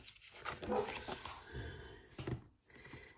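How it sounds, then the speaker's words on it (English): A small dog barks indoors, a few muffled, fairly faint yaps set against a low room hum. "there goes my dog barking at what?"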